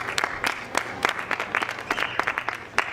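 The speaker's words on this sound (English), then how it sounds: "Let's give a round of applause for these two for coming out today." Audience applause for two guests at a talk event, a short burst of sparse, individually distinct claps at moderate loudness with no voices over it.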